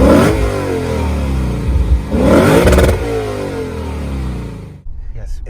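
Naturally aspirated V8 of a 2020 Lexus GS F revving hard, a loud, close roar that rises and surges twice before dropping off near the end.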